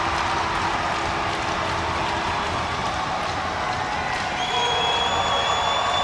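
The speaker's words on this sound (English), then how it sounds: "Doucette firing up the crowd" Hockey arena crowd roaring and cheering during a fight in an OHL game involving the Sudbury Wolves, a steady dense wash of voices and applause filling the building, with a whistle tone near the end.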